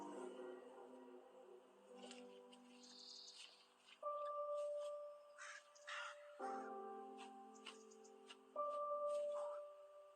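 A crow caws repeatedly in short harsh bursts, fairly close, with sparse bird chirps in the quiet background and no talking.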